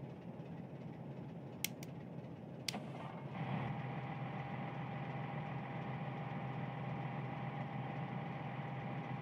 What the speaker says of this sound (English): Press Z to start or stop the engine.